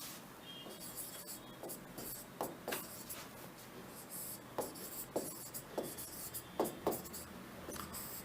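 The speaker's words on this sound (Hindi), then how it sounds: "तो मैं यहां लिख देता हूं शब्द विचार।" Chalk or marker scratches across a board in short, faint strokes and taps during a Hindi grammar lesson, quiet and intermittent with soft room noise between.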